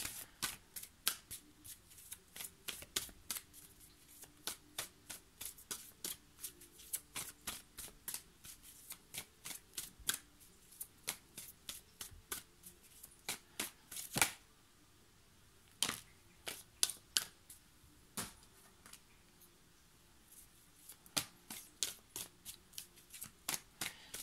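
Playing cards are shuffled over and over during a card reading, giving long runs of crisp riffling flicks with short pauses between bursts. The sound is close and alone, with no talking.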